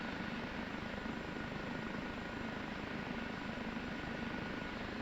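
An OH-58D Kiowa Warrior helicopter in the DCS flight simulator gives off a constant rotor and engine drone, steady and even throughout, with no voices.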